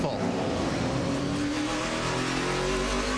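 NASCAR Cup race cars at the 2009 Pennsylvania 500 at Pocono, rolling down pit road during a round of stops: a steady, loud engine drone with broad roaring noise, running continuously under race commentary.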